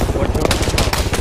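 Rapid automatic gunfire in the military shooter game Arma 3, dense bursts of shots crackling continuously and loudly through the whole moment, with a voice shouting briefly over it.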